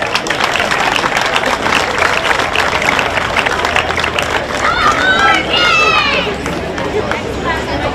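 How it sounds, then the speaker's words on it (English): Audience applause for the eleven kids at a junior livestock show, dense steady clapping with crowd noise and scattered voices throughout, a few whoops rising near the middle. "nice round of applause."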